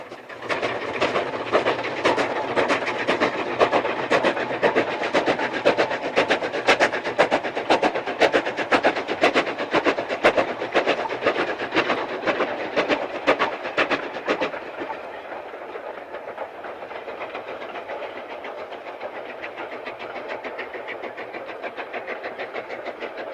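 Super D 49395 steam locomotive hauling its train uphill toward Whistle Inn, a steady loud rumble with rapid rhythmic clatter and chuffing that eases and quiets after about fifteen seconds, continuing as a softer running noise.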